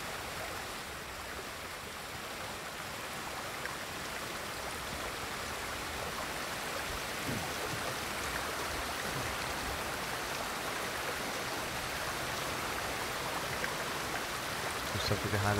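A waterfall in the Ghost of Tsushima video game pours in a steady, dense wash of rushing water that holds constant and fairly soft throughout, with no one speaking over it.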